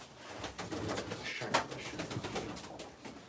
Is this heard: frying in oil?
no